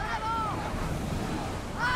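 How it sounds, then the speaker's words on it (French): Stormy sea in the Assassin's Creed Odyssey video game, a steady broadband wash of surf and wind lasting throughout, with faint creaking tones near the start and end. "Putain de tempête, quoi, qui se déclenche comme ça."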